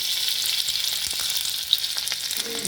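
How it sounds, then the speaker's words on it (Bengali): Ginger sizzles in hot oil in a wok, a steady close frying hiss with light stirring scrapes and no talk. "এখানে আমি আদাটা দিয়ে দেবো,"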